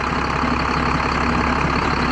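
Older mowing tractor on a farm near the Wabash River, engine running at a steady, loud, rumbling drone with a constant low pulse and no speech.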